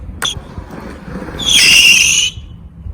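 Skateboard braking in Oxelo skate shoes, a single loud scraping screech of rubber sole dragged on pavement lasting about a second, over faint rolling noise.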